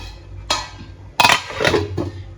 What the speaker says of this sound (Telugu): ఇంక ఇప్పుడు మూత మూసేసి